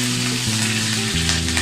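Green chillies and curry leaves crackle and sizzle steadily in hot oil for a tadka for dahi sabzi, a loud continuous frying hiss with no voices.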